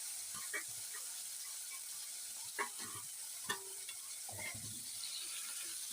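Chopped onion, tomato and green chili fry in a pan with a steady low sizzle, while a few sharp clinks and scrapes from stirring stand out.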